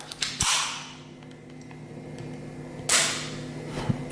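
A DUC 6.35 Browning pistol is dry-fired: two sharp, close metallic snaps about two and a half seconds apart, with quieter mechanical clicks between them and no talking.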